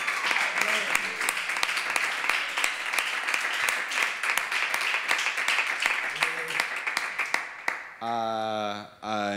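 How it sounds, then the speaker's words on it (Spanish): An acoustic concert audience applauds a bassist with a long stretch of crisp, dense clapping that holds steady for several seconds before a voice comes in over the tail. "Un aplauso para él, por favor."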